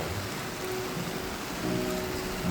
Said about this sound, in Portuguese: Olha uma chuva. Chuva nesse momento.